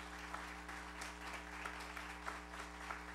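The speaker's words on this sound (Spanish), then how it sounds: "Yo le pido un aplauso al Ministerio de Salud Pública por eso" Steady applause from a seated audience at a medical talk on rheumatoid arthritis patients, a dense even wash of clapping held at moderate distance for the whole stretch, with no voices over it.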